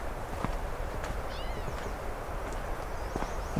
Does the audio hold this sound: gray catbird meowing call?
yes